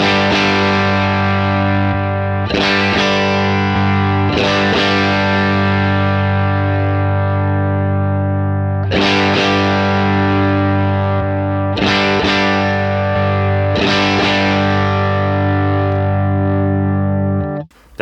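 An electric guitar through a Brit Blues Bluesbreaker-style overdrive pedal playing loud, sustained distorted chords, restruck about every few seconds and left ringing, before cutting off abruptly at the end.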